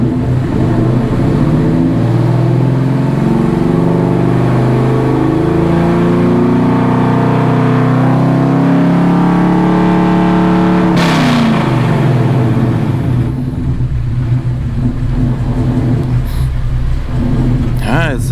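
Coyote V8 in a 2016 Mustang GT, a troubled project car, held at steady high revs before the throttle is released and it drops back to a lower idle rumble. A voice talks briefly over it.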